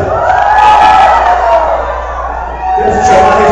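Loud crowd noise from an audience at a municipal council session in Suzanápolis, a sustained roar of jeering voices that dips briefly and then swells again.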